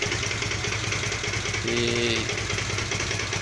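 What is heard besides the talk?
Kawasaki VN 800 Vulcan motorcycle idling with strange noise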